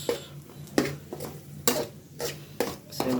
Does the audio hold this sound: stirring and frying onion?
yes